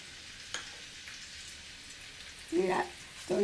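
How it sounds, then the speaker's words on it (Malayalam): Small shallots frying in coconut oil in a home kitchen pan, a soft steady sizzle running underneath with brief clatters and voices breaking in near the end. "വെളിച്ചെണ്ണ ഇട്ട് നമുക്ക് ഉള്ളി ഇടാം."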